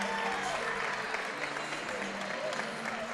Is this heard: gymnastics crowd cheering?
yes